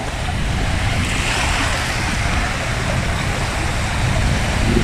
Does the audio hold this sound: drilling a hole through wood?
no